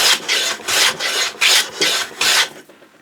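A Hong Kong style wooden hand plane, its blade in need of sharpening, rasps across wood in six steady strokes taking thin shavings, each pass a close dry scrape with short pauses between, ending with a fading final stroke.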